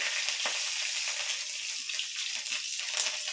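Cumin seeds crackling and sizzling in hot oil while tempering for soybean kosha, a dense, steady close-up fry with small pops throughout.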